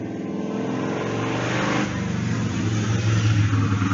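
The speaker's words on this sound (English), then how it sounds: "here comes a motorcycle" A motorcycle passes on a road outdoors amid steady traffic noise, its engine drone rising loud and close before holding strong, with no talk over it.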